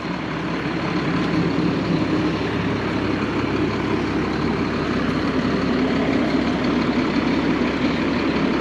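A 2006 Fleetwood Bounder 38N diesel pusher motorhome with 52,000 miles idles with a steady, even low rumble and constant drone, close by and without talk.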